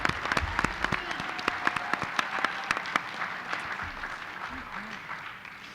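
An audience at a spelling bee applauds the finalists with sharp, scattered claps that fade gradually, while a voice talks over the clapping.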